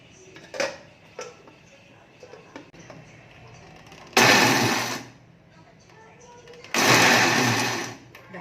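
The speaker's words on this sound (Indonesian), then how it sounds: "Ini juga aku akan blender ya." Electric blender grinding dried anchovies into homemade chili flakes, two loud whirring bursts of about a second each, separated by a pause, with faint background sounds before them.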